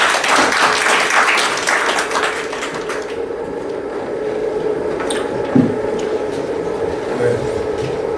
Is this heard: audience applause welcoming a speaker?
yes